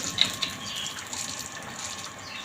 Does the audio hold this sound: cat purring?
no